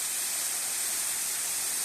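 Steady, dense rush of falling water from a waterfall beside the Birwadi tunnel on the Samruddhi highway, a continuous broadband roar with no breaks, heard close and alone.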